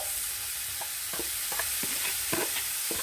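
Steamed vegetables drop into a hot pot for vegetable biryani, followed by a soft sizzle and several scraping stirs that come at an irregular pace.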